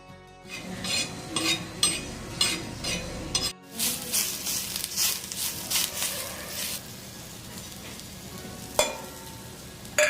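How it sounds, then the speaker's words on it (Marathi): A paste of coconut, coriander seed and onion roasts in a pan, giving a steady sizzle broken by repeated scraping stirs, a brief pause, then more frying and a sharp clink near the end. "बघा आता मी हे वाटण भाजून घेते"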